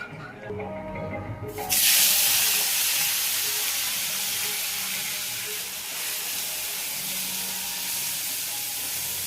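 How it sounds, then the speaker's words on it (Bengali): Loud, steady sizzling bursts up after a quieter opening moment, then continues as a dense hiss of hot oil frying in a pan, heated for fish. "কড়াই গরম হয়ে গেছে অলরেডি, এখানে তেল দিয়ে দিলাম আমি"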